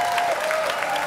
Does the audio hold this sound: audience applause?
yes